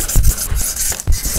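Guitar frets on a Donner Strat rubbed with fine-grit sandpaper, three or four short, close, rhythmic back-and-forth scrubbing strokes.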